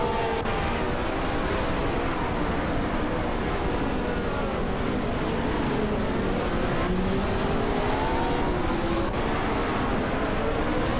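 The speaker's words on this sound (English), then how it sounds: "1967 cars are evenly matched on this street circuit, making the race very competitive" Several 1967 Formula One cars race around a tight street circuit, their engines droning loud and continuous with rising and falling pitch as they pass close by.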